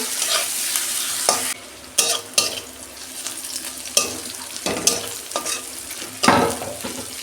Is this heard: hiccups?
no